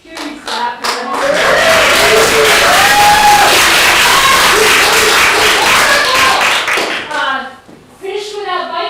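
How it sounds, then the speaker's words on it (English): Live audience at a stage event claps loudly and steadily for several seconds, mixed with cheering and whoops, before it fades and a person resumes speaking. "Can I just hear you clap?"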